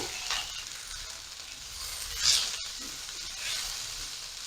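Cashews and chopped tomato being stirred in a hot pan for kofta curry, a soft steady sizzle with brief swells as the spoon moves through, close and without talking.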